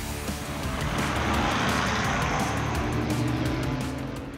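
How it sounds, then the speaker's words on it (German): A race car on a qualifying lap roars past at high engine revs, the sound swelling loud and sustained across the whole stretch with no voices over it. "Der Qualifikationslauf mit Celia am Steuer läuft sehr gut."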